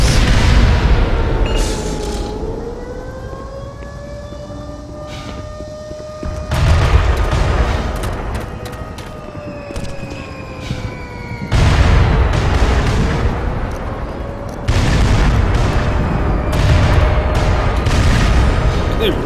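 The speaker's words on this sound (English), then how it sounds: "really just firing giant rockets at me and stuff" Rocket explosions in the video game Black Mesa: loud, deep booms burst in at intervals over a continuous rumbling backdrop, with a droning tonal hum gliding up and down between blasts.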